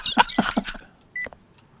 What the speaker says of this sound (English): What is the beeping?